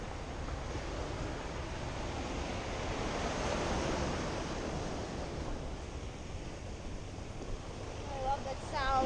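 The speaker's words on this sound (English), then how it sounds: "I love the sound of the ocean too, though." Ocean waves surge and wash over unstable rocks along the San Pedro shoreline, a continuous loud roar of churning surf with wind buffeting the microphone, swelling midway and rising again at the end.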